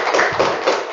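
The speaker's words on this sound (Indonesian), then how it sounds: "Tepuk tangan dulu." An audience in a classroom claps after a group's class presentation, a brief, dense burst of hand claps heard up close.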